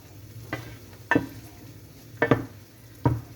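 Garlic fries and browns in a pan with a soft, steady sizzle, broken by four sharp scraping stirs of a utensil against the pan.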